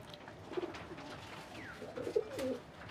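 Pigeons kept for sale coo softly, one low murmur early on and a couple more overlapping coos near the end, fairly close but quiet against a faint background hiss.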